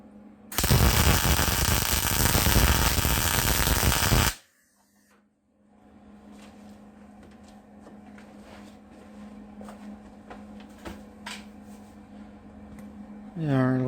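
Eastwood MIG 135 welder lays a bead in a home shop, a harsh, loud crackling buzz lasting about four seconds that cuts off abruptly, followed by a quieter background hum with faint clicks and handling noises.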